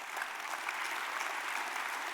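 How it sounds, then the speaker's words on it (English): Audience clapping at an evening Festival of Lights event in Los Angeles, a dense, steady wash of applause from a crowd heard at moderate distance throughout. "Please, a round of applause for you guys."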